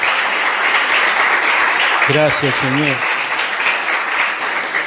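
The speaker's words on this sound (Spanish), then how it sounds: "Dale un aplauso al Señor" Church congregation applauding through a worship service, a steady wash of clapping that runs the whole time, with a voice speaking briefly over it midway.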